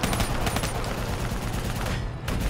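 Dense, continuous gunfire in the video game Call of Duty: Black Ops III, a loud, sustained barrage of shots that fills the whole stretch with no pauses.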